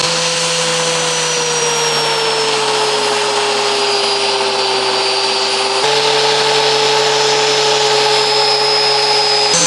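A homemade flour mill machine grinds wheat with a loud, continuous motor whine and dense grinding roar, its steady pitch sagging slightly under load, running alone without any talking.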